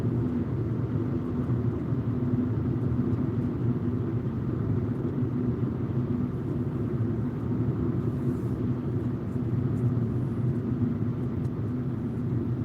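A car cruises along a highway at night at around 100 km/h, heard from inside as a steady, even low rumble of road and engine noise with no breaks.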